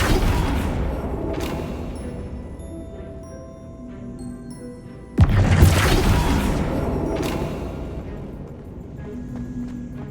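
A Confringo fire spell bursts in Hogwarts Legacy, a loud sudden boom midway that rumbles and decays over several seconds amid game ambience and chiming effects.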